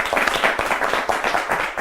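Audience applause during a live online lecture, a steady dense patter of clapping that stays fairly loud throughout with slight swells, no speech over it.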